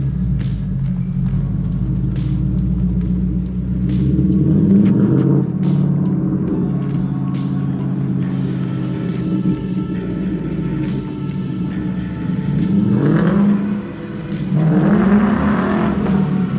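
Ford F100 unibody truck with a newly built exhaust loops around a cul-de-sac, its engine rumbling steadily up close and swelling in a few loud revving surges as it accelerates, with no talking.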